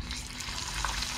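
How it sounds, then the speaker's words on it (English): Shishamo fish fry in hot oil, a brief, dense and steady sizzle with bubbling hiss, close and continuous, with no voices. "Shishamo on the hook, went into the oil"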